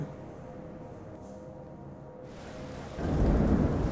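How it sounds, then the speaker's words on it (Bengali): A thunderstorm sound effect starts with a low rumble, then heavy rain comes in as a loud, dense wash that grows toward the end. "সেদিন সন্ধ্যার পর থেকে মুষলধারে বৃষ্টি নামল"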